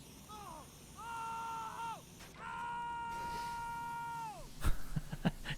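A video game man's drawn-out pained yells during a structure fire, two long cries, followed by sharp impact sounds, with a faint electronic hum behind.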